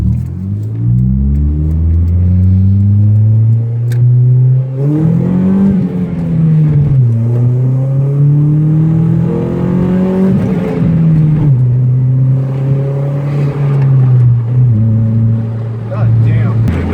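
A loud exhaust drones and rises in pitch repeatedly as the engine revs up and settles back, continuous and close, with voices faintly underneath.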